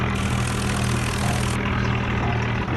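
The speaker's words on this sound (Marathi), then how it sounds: "आता आपण ट्रॅक्टर हळूहळू घेऊ जिकडं पलीकडं" A tractor towing a trailer runs slowly, its engine a loud, steady, close rumble with no break from start to end.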